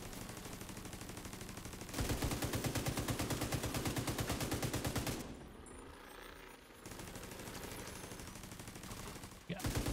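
Rapid automatic gunfire from The Division 2 video game rattles in long sustained bursts, briefly pausing and then resuming, loud and continuous across the clip.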